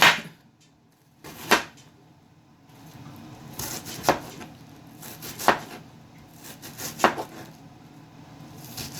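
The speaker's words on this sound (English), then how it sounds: "Give them a rough chop." A knife roughly chops vegetables on a cutting board, a handful of sharp, separate thuds spaced a second or so apart over quiet kitchen room tone.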